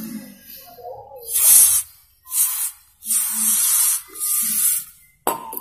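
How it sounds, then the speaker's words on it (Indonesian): Air cleaner sprayed onto a Yamaha Vixion motorcycle engine in four loud, sharp bursts of hiss of about a second each, close by, with someone speaking quietly between them. "Kita semprot lagi ya pakai air cleaner."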